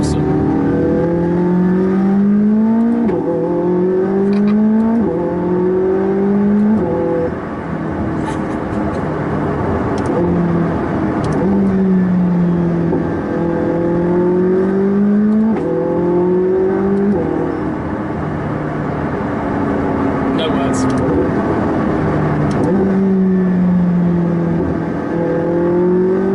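McLaren 675LT engine revving up through the gears, repeated rising pitch sweeps broken by sharp upshift drops, loud and close from inside the car.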